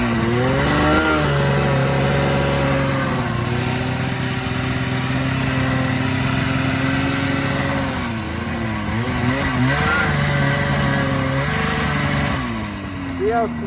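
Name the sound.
Ski-Doo Safari 377 snowmobile engine accelerating slowly in snow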